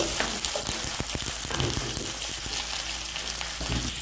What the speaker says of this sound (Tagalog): I-brown lang natin yung ating onion.